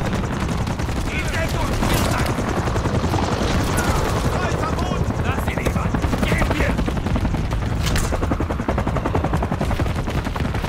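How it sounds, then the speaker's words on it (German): Helicopter rotor thrum in the Call of Duty Modern Warfare 3 mission Operation 627, buried under constant heavy machine-gun fire and shooting throughout a loud, dense battle mix. "Charlie sollte sich um diesen Heli kümmern."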